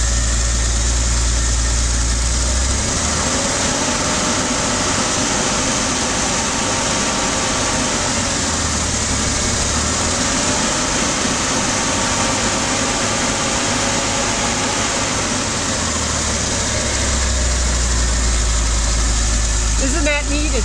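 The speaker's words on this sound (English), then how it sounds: "let's rev it up a little bit, just a little, and just hear some of that fan" An air-cooled car engine revs gently up and down over a steady idle, its cooling fan whirring loudly and continuously throughout, close and alone without talk.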